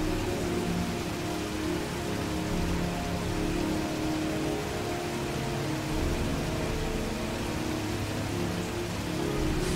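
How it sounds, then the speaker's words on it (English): Heavy rain in a video game: a steady, loud, unbroken hiss of pouring rain that fills the whole stretch evenly, with no talking. "Heavy rain."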